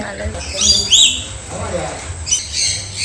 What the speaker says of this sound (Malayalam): കിളികൾ